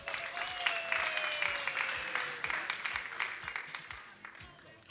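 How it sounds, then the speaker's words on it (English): A round of applause at a Taita Taveta University event, dense continuous clapping from a gathered crowd at moderate loudness, gradually thinning toward the end, with a faint tone and murmur beneath. "We can give them a round of applause."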